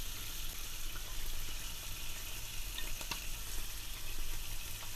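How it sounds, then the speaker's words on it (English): Shrimp, calamari and garlic sautéing in olive oil over high heat, a continuous bright sizzle with small pops and crackles, close and even throughout, with no talking. "we're also going to be adding in the garlic. And we're just going to saute all of this together."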